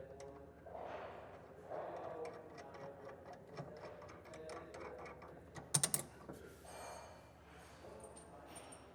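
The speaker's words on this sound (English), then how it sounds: "Taking a 15/16, we're going to go ahead and tighten these bolts." A ratchet with a 15/16 socket tightens nuts on the U-bolts of an underbed gooseneck trailer hitch being installed in a 2024 truck; rapid clicking comes in quiet bursts with metallic clinks, and a voice talks nearby.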